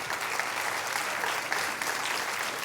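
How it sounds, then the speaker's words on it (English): Continuous applause from a keynote audience for an improv ensemble, dense and even clapping that fills the whole stretch without letting up. "Please give a round of applause"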